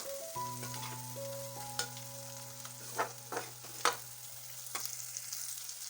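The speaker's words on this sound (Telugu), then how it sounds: "అల్లం వెల్లుల్లి పేస్ట్ అనేది కొంచెం ఫ్రై అవ్వాలండి" Ginger garlic paste frying in a pan, a soft steady sizzle with a few sharp spatula scrapes and taps spread across several seconds, over a low steady hum and with no talk.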